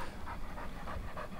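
Hunting dogs panting close by after retrieving a rabbit during a partridge and rabbit hunt, a quick, steady rhythm of rapid breaths with no talking.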